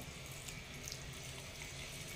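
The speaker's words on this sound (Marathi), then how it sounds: "एक वाटीभर पाणी घातलं आहे मी." A brief, quiet rush of running water, steady and faint, as a bowlful of hot water is poured into a pan of cooking methi matar malai curry.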